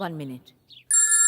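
A telephone ringtone begins after a short line of speech and a brief pause, its steady electronic tones sounding loud and close until the end. The ringing is for an incoming call and carries no voice over it.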